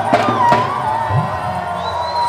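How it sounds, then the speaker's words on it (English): Guests at a wedding reception cheer, whoop and shout in a lively, fairly loud burst, with excited voices over a steady musical tone in the background. "a round of applause, make some noise"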